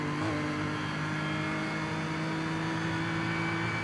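A BMW M4 GT3 in a racing sim on the Nordschleife gives a loud, close, continuous engine roar, held steady under throttle with no talk over it.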